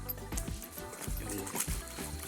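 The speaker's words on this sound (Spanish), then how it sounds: "usted está escuchando ahí como voy apaleando, voy mojándome los pies de una vez" Feet wade through shallow river water, rhythmic sloshing steps splashing close by over a low outdoor rumble.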